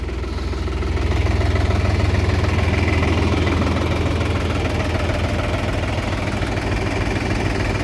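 A Solis RX50 tractor engine idles steadily nearby, a low, throbbing rumble with a faint rhythmic knock, running alone without any talking.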